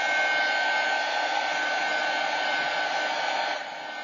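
A hair dryer runs steadily to dry mixed media playing cards, a continuous close airy roar holding even for several seconds before easing slightly at the end, with no talking.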